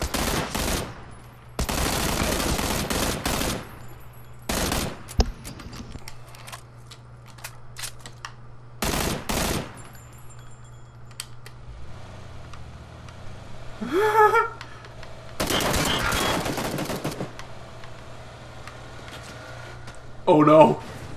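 Bursts of automatic gunfire in PlayerUnknown's Battlegrounds come in several loud clusters separated by quieter gaps, with excited talking and shouting between and over the shots.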